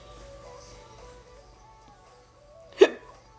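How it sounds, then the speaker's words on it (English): A single sharp hiccup from a person, close and clear near the end of a quiet stretch with a faint hum in the background. "now I have the hiccups"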